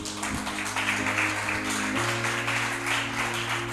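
Church congregation clapping in praise, a steady, moderately faint wash of applause with a sustained organ or keyboard chord held underneath.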